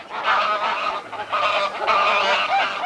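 Cartoon ducks in a courtroom honk and quack loudly in overlapping, continuous bursts, a raucous chorus filling the scene without pause.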